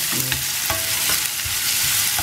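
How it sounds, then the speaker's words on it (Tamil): Onions with ginger and green chili sauté in a hot pan, a continuous sizzle broken by several scraping stirs of a spoon, close and fairly quiet with no talking. "நல்லா வெங்காயம் வதங்கிடுச்சு"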